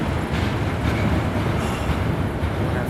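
A train rolls past at a road intersection, a steady loud rumble of wheels on rails with faint clatter and squeal, continuous throughout and free of talk.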